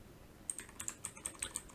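Keys tap crisply on a computer keyboard in a steady run of about nine evenly spaced strokes after a brief silence, close and fairly quiet, with no talking.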